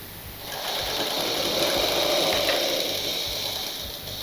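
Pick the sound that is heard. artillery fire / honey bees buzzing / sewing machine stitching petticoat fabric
sewing machine stitching petticoat fabric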